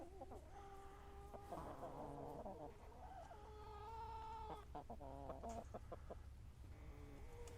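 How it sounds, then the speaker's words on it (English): Chickens cluck and squawk continuously over a steady hum and buzzing background, several birds calling at once. "These are all the chickens."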